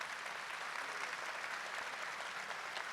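A church congregation applauds during a Catholic Mass homily, a steady dense clapping that fills the room without pause, with no speech over it.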